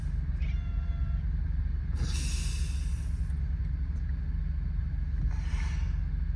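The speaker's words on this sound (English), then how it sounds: "My cat talked back to me, guys." A house cat meows twice inside a truck cab, a longer call near the start and a shorter one a few seconds later, both heard clearly over a steady low engine rumble.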